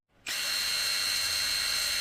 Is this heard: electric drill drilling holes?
yes